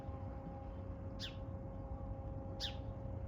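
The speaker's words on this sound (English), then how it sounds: "Catbird squawking at Steve." A gray catbird gives two short, harsh squawks roughly a second and a half apart, faint against a steady low mechanical hum.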